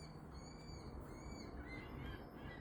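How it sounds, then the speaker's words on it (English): Outdoors, a bird squawks faintly in the distance, giving a few brief hooting calls over a steady background hiss. "Do you hear the bird?"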